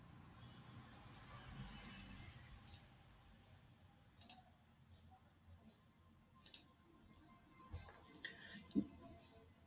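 Computer mouse clicks while working in CorelDRAW 2021, several sharp, isolated clicks spaced a second or two apart over a quiet room hum, close and crisp.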